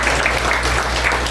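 A church congregation applauds in a thick, continuous wash of clapping that holds at a steady level from start to finish.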